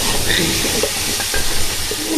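Lentils and rice for khichuri frying and being stirred in a pot: a steady close sizzle with soft scraping stir strokes, no talking over it.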